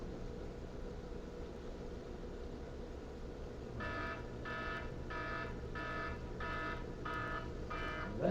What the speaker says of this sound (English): That's the alarm for class.